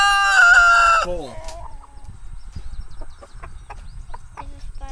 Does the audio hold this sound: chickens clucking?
yes